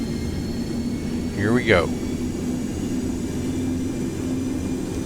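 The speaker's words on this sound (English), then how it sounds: "this is going to be a rolling takeoff because I want to keep the power up and get in the air" Boeing 727-100 engines in the X-Plane 12 flight simulator hold a loud, steady roar during a rolling takeoff, while someone speaks a few words over it.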